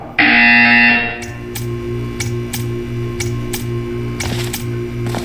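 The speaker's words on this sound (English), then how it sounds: "You will hear a buzzer." A loud, harsh buzzer sounds for about a second in the video game Portal 2. A steady, rhythmic ticking and a low hum follow, with no voices.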